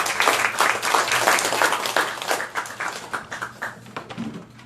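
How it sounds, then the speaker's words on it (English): A meeting audience claps together in a dense burst of applause, loud at first and then thinning into scattered, separate claps as it fades out. "give yourselves a round of applause."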